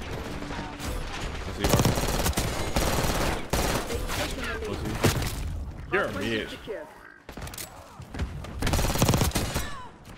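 Shotgun blasts and other gunfire in a first-person shooter video game, a steady run of loud booming shots and rattling fire under excited talk, with in-game voice lines mixed in.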